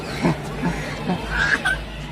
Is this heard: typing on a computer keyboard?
no